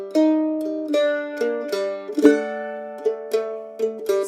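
A mandolin plays a Delta blues ending phrase: a run of crisp plucked notes and double stops, with a strummed chord in the middle and a few ringing final notes, close and clear with no talk.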